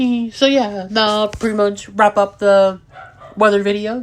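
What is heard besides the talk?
dogs barking in the background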